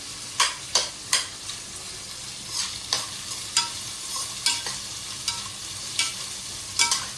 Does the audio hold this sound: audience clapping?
no